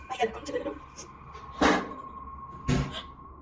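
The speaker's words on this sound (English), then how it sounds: "he turns to find the door from the other room has slammed shut again" A door slams shut twice from another room in a frightening home setting, two sharp, loud impacts separated by about a second over quiet background with a faint steady hum.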